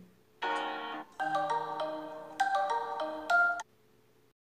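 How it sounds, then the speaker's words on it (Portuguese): A melodic Samsung Galaxy J7 Prime phone ringtone plays alone, a few bright synth phrases in quick succession, clear and close, then stops. "Nós vamos nas configurações para escolher o nosso toque"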